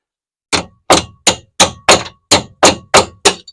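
Nine sharp metallic clangs in an even rhythm ring out loud and close, each with a short bright decay, as a small spanner wedged on a Maserati 4200 coupe part is struck, with no talk.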